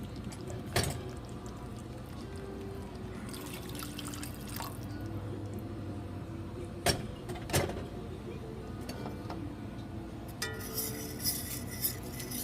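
Fork whisking onion gravy made with bouillon broth in a pan, a soft wet scraping and stirring with scattered clinks of metal against the pan, fairly quiet and close, with no talking.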